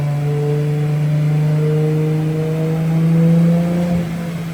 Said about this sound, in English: One of the best sounds ever created is a boosted 2JZ.